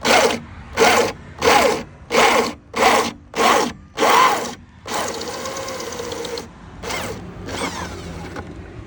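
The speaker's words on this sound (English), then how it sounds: "You put it in reverse, and you reverse drill that hole" A power drill running in reverse whirs in repeated short bursts, about seven even pulses, then runs longer with a grinding, creaking tone as it works through plastic pipe.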